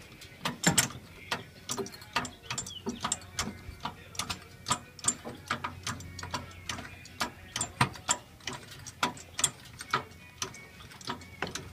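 A car jack is pumped to lift a car for a brake pad and rotor job. Its sharp mechanical clicks and ratcheting pawl snaps repeat steadily up close for about twelve seconds.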